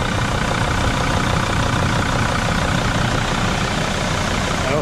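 A bus or van engine, just fitted with a replacement turbo, idles in a steady, loud, continuous rumble close by, with no breaks.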